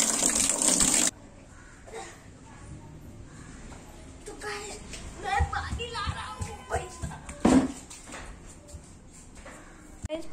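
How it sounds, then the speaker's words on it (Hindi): Water running into a home fish tank being filled, a loud gush at the start that cuts off abruptly, followed by a voice talking over faint household noise. "पानी भरना शुरू करते हैं"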